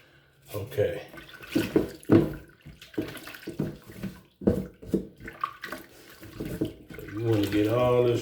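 Water splashes and runs over a hazy car headlight lens during cleaning, in uneven bursts of pouring and trickling, close and moderately loud, with someone talking over it.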